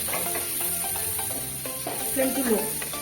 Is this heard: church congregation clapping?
no